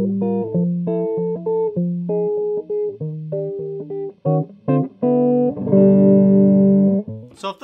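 A 2019 Fender Rarities Flame Maple Top Chambered Telecaster played on its neck pickup with the tone rolled off gives dark, mellow single notes and short chords in a close, clean melodic phrase with no talking.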